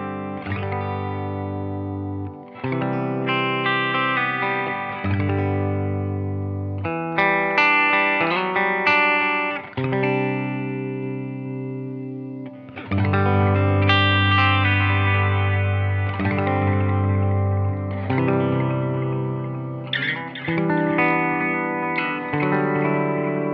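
Electric guitar through a Strymon modulation pedal, playing sustained chords and melodic phrases with chorus-like shimmer, echo and some distortion, loud and continuous with brief pauses between phrases.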